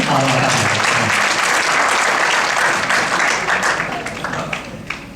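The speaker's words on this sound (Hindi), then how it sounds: "आप देखिए एक बार तालियां बजाकर इनको आदेशित करें" A large audience breaks into loud, dense applause at a poetry recital gathering, a sustained roar of clapping that gradually thins and fades toward the end, with a few voices mixed in.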